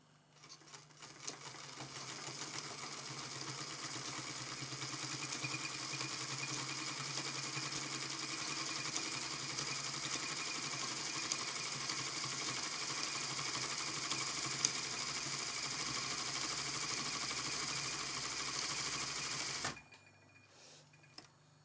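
A sewing machine stitches through tailoring canvas on a bespoke jacket, running in one steady, continuous buzz of rapid needle strokes for nearly twenty seconds before stopping abruptly, with no talk over it.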